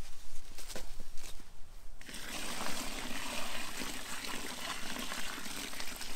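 A bucket of water is poured onto soil while planting a grapevine. Faint trickles come first, then a steady, dense gushing splash that continues to the end, with no speech.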